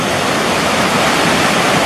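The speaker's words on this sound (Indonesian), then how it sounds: "Apalagi terdengar gemericiknya Sungai Merawu." Merawu river rushing loudly close by, swollen and murky after rain, a dense steady roar of flowing water with no break.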